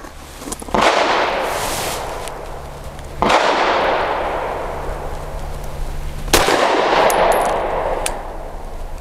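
Three loud gunshots from a Canik METE MC9 pistol firing Norma 108-grain monolithic hollow point ammunition, evenly spaced a few seconds apart, each a sharp crack followed by a long ringing outdoor echo.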